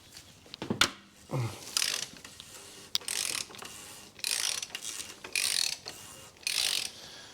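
A wrench or spanner works the 27mm hex top of the oil filter housing on a 2013 Mini Cooper D 1.6 diesel, making several close, separate ratcheting clicks and metallic scrapes in short bursts with quiet gaps between them.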